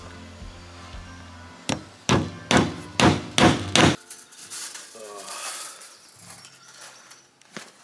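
Six sharp metal hammer blows in a quick, even rhythm drive staples over wire on a workshop wall, loud and close, followed by quieter shuffling and a final lone tap.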